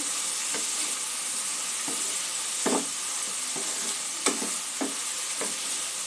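Turmeric and cumin powder being stirred in a hot pan for a ridge gourd shukto, a steady hissing sizzle broken by scattered spatula scrapes and taps, near and without talk.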